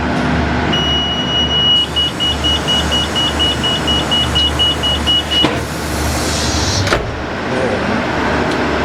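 A motorised folding ladder at a berth on a new sleeper train to Chiang Mai whirs closed. The motor hum runs steadily for several seconds with a thin whine, ends in a clunk, and is heard inside the carriage with train rumble beneath.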